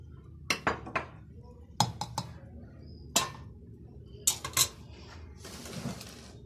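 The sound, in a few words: serving zucchini and rice onto a plate, dishes clinking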